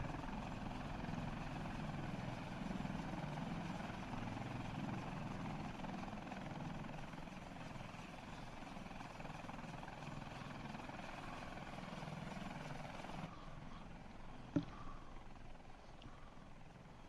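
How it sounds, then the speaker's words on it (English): A large helicopter flying in the video game Arma Reforger, its rotor and engine drone steady and loud throughout, with a sharp brief knock near the end. "I'm flying a big helicopter, you can see."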